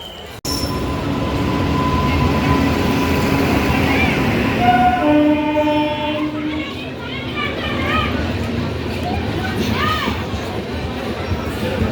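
A passenger train on the Yadgir to Bengaluru line rumbles loudly along the rails, with shrill wheel squeals and tonal whines rising mid-clip, people talking over the steady rolling noise.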